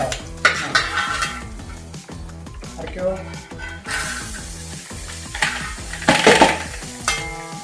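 Onions fry and get stirred in a pan for chicken masala, with a constant sizzle under repeated clanks and scrapes of a utensil against the pan, close and loud, and some talking in places.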